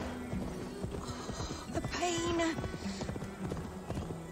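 Horse hooves clip-clop at a steady walking pace in Assassin's Creed Valhalla, close and clear, with a brief whinny partway through and game ambience underneath.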